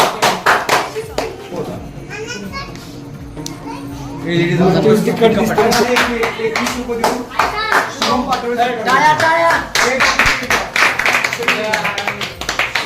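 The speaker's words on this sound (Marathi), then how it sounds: "टाळ्या टाळ्या" A group of people clapping hands at a home festival gathering, irregular then fuller rapid applause with children's voices and chatter mixed in.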